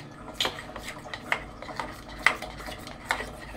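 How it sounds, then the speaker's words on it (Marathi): A spoon scrapes and stirs oil into thick cake batter in a bowl, with quick irregular strokes and clinks at close range and no talking. "तेल टाकलेलं सगळं एकजीव कर"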